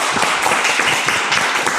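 An audience at a startup pitch event gives a round of applause as a founder is welcomed on stage: dense, steady clapping from many hands that fills the whole stretch evenly.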